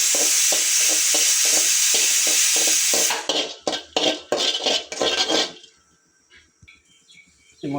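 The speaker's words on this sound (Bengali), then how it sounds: "মশলাটা দিলাম হালকা, অল্প" Ground spices hit hot oil in a pan for a Bihari-style beef curry, a loud hiss giving way to brisk, clattering strokes of a metal spoon stirring against the pan, then quieting.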